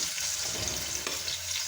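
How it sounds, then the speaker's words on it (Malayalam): Onions drop into hot coconut oil for a Kerala-style pork fry, giving a steady soft sizzle and crackle at moderate level with no voices. "വെളിച്ചെണ്ണ ഇവിടെ ചൂടായിട്ടുണ്ട്. അതിലേക്ക് നമുക്ക് എരിഞ്ഞു വെച്ചിരിക്കുന്ന സവാള"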